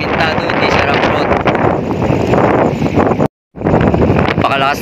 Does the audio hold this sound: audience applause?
no